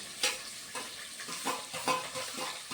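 Rampa and bay leaves fry in hot oil for an egg curry, a soft sizzle broken by several stirring scrapes against the pan, fairly quiet and with no talk.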